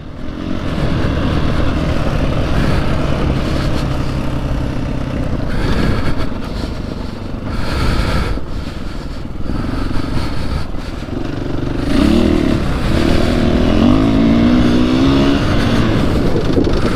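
A Husqvarna 501 FE motorcycle engine revs hard in second gear on an Oregon ride, a loud, close, sustained roar that rises and falls with throttle changes amid wind noise.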